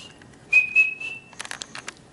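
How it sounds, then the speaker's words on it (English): A person whistles to call a Siamese cat: a short, bright rising note, then a held steady tone lasting under a second, followed by a few quick chirpy whistle bursts, close and clear in a quiet room. "every time I whistle to him"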